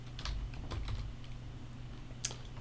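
Computer keyboard typing, with scattered soft key clicks over a low steady hum and a sharper click near the end, quiet and close, no voices.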